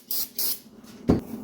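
Cleaner sprayed onto the deck of a 1.8 Miata engine block during a rebuild: two short, close hissing bursts in quick succession, followed by a brief clunk.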